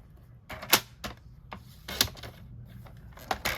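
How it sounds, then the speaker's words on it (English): A paper trimmer slices along the edge of cardstock, with several short sharp swishing strokes and faint clicks spread across a quiet room, near and crisp, with no talk. "We're gonna cut that edge because that edge is looking a little raggedy."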